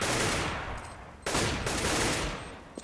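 Explosive bursts from a CS:GO grenade during a competitive esports showmatch, a loud blast near the middle followed by a second sharp burst, with gunfire-like crackle throughout and no talk.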